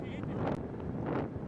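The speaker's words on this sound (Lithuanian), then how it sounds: "Kala toks nugarinis kreivinis vėjas." Crosswind buffets a rider during a road cycling race stage, a steady close roar of wind across the microphone that swells and eases through the moment.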